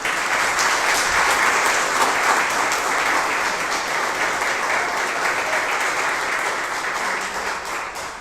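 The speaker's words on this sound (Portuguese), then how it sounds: "As palmas louvam o nome do Senhor." A church congregation applauds during a service, a dense, steady wash of many hands clapping that holds evenly for several seconds and fades slightly at the end, with no talking over it.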